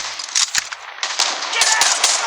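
Rapid shots from a Type 63 (SKS) rifle in the Call of Duty Mobile video game: sharp, loud cracks fired in quick irregular bursts, with faint game sounds in between.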